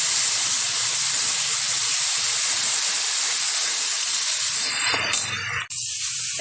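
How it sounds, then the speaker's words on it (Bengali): Turmeric and salt sizzle loudly and continuously in a hot pan as they are sautéed for a Bengali bhetki fish curry with potato and pointed gourd, with a brief clatter of stirring near the end. "ভালোভাবে কষিয়ে নিচ্ছি।"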